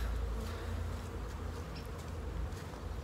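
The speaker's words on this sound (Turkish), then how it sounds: "Arılar bayağı hareketli maşallah." Honey bees buzz densely around a well-populated beehive, a steady, close, continuous hum with no voices.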